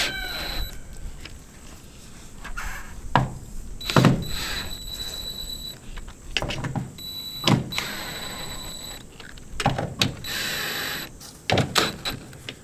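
Screws being worked back and forth during a mobile home rebuild, pulling a rigid panel in evenly: a series of short, sharp creaking and clicking bursts spaced irregularly, each with squeaky high-pitched tones, fairly close and without talk.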